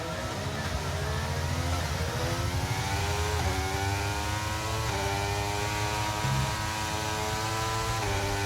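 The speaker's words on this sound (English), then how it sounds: "hopefully I can hear the car engines" Continuous high-pitched Formula One engine whine in a racing video game, rising and shifting in pitch as the car accelerates and changes gear, loud and steady throughout.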